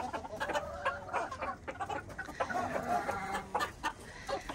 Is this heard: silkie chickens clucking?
yes